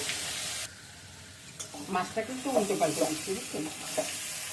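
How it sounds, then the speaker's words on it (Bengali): Fish frying in oil in a pan, seasoned with fenugreek seeds and spices, turned over as it cooks; a steady close sizzle with bursts of crackling and scraping from stirring, no talk. "উল্টে পাল্টে দিলে কি হবে, মশলাটা আর ফোড়া যাবে না একদিকে, আর মাছও মানে দুই দিকে ভাজা হয়ে যাবে আর কি।"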